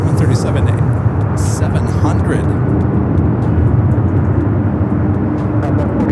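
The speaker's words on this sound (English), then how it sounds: "Airlines flight 4536 coming up from Vegas on the 737-700." Loud, steady roar of a Boeing 737-700 airliner on the ground at Los Angeles International Airport, a broadband engine drone that holds continuously throughout, with radio chatter and talk running over it.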